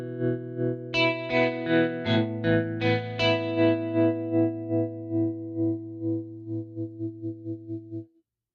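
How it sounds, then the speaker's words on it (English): An electric guitar through a tremolo effect plays several picked notes into a ringing chord, its volume pulsing in a steady rhythmic throb that quickens and fades out at the end, close and alone. "You can also control the intensity of the tremolo."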